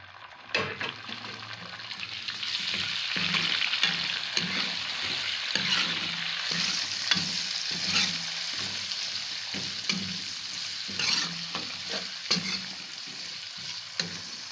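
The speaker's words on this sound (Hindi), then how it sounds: "लहसुन को मैं 2 मिनट तक भूनूंगी। अब मैं डालूँगी टमाटर" Garlic and tomatoes fry in a pan for aloo chicken bhujia, a steady close sizzle with recurring scrapes and clinks of a spoon stirring, no voices.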